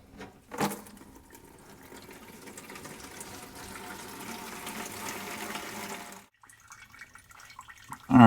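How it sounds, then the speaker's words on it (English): Fuel draining from the tank of a classic Mustang into a bucket during a fuel sending unit replacement, a steady liquid trickle and splash that runs for about six seconds, then stops, with a brief clatter at the end. "make sure you put your bucket under here so you don't start spilling fuel everywhere"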